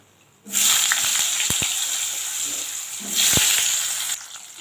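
Diced potatoes drop into hot oil already tempered with whole spices, setting off a loud, steady sizzle after a quiet start, with a few sharp pops and a second surge of frying near the end.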